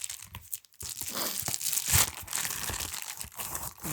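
Scissors or a blade slicing through a mail package, with papery tearing and crinkling in short bursts up close, a brief pause early on, then steady ripping and rustling of packaging.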